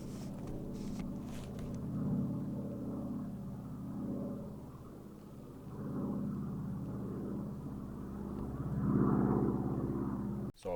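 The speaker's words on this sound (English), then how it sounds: "And I hear another float plane." Float plane droning over a remote Canadian lake island, a low, distant propeller hum that swells and fades several times in a slow, steady rhythm, quiet and alone without voices.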